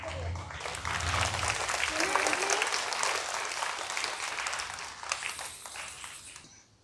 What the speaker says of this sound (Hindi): चलिए अब हम ताली बजाएंगे कुलभूषण जी के लिए।